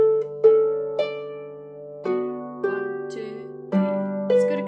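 A harp sounding a G and a D, with notes plucked one after another and rung together in a slow rhythm, each attack bright and decaying over a steady low drone.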